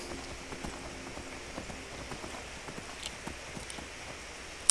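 Horse hooves clip-clop at a steady walking pace in Skyrim, light repeated clopping over a soft ambient bed, fairly quiet with no voices.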